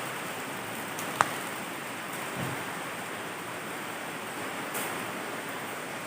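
Heavy rain pouring around a house, a steady broad hiss of downpour with a single sharp tap early on, continuous and without talk.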